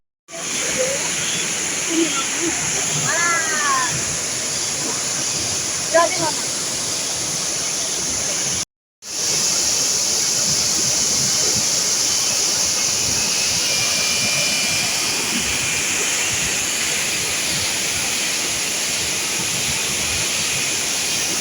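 Bar Changay waterfall in Sikkim roars as a loud, unbroken wash of falling water and spray close at hand, with a brief cut midway and faint voices underneath.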